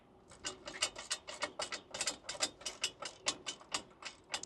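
Bolts on a lightweight metal RV mount are tightened with a hand ratchet, giving a close, steady run of about twenty sharp rhythmic clicks in a quiet setting.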